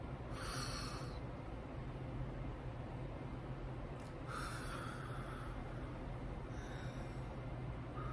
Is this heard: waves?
no